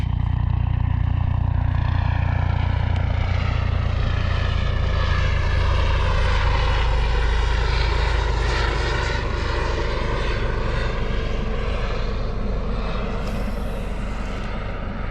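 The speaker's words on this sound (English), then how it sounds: "I don't know what this chopper's doing." A helicopter passes over a Florida lagoon on a cold morning, its loud engine and rotor drone wavering in pitch and holding steady for the whole stretch, with no talking.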